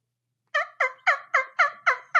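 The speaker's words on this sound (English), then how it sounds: "it's a turkey wingbone. That's pretty So cool. it's dude. yeah, dude, you make a call with it" A turkey wingbone call gives seven sharp, evenly spaced yelping clucks in a steady rhythm, close and clear, with no talking.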